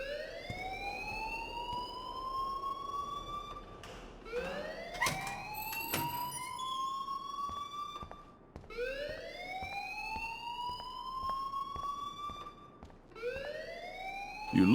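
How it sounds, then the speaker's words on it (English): Electronic alarm in Life Is Strange, a loud rising wail repeating in long sweeping cycles, with a brief burst of clattering noise partway through and no voices. "please turn off that alarm since that's your job."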